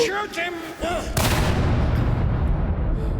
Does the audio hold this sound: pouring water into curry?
no